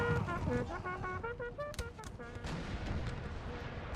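Musket volleys and artillery in a Napoleonic Total War 3 multiplayer battle, a dense rattle of shots and booms mixed with horn-like tones and battlefield din, steady and loud throughout.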